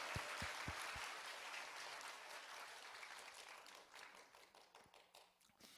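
A church congregation applauds in a large hall, a dense wash of many hands clapping that starts with a few sharp claps, then fades gradually toward the end.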